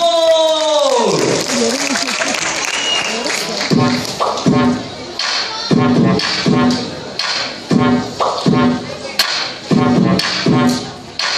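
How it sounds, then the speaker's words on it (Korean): Audience applause at a singing event, clapping spread through the clip under ongoing loud talk and music, with a rhythmic beat of taps or claps in the second half. "박수 주세요!"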